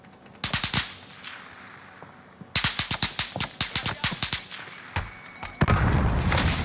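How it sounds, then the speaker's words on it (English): Rifle fire in a first-person shooter, with someone sniping from a building off to the right: a quick cluster of shots, then a steady run of evenly spaced sharp reports, followed by a louder blast and rumbling noise. "There's someone else sniping to our far right in one of the buildings."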